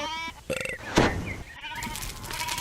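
Sheep bleat in a quick series of short, wavering cries close by, with a few overlapping calls and rough, throaty tones.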